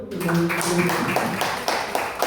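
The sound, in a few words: applause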